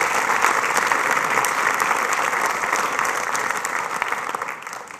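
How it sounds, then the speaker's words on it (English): Sustained applause from a large audience at a high school graduation ceremony, a steady dense patter of clapping that slowly fades toward the end. "So let's give them a round of applause."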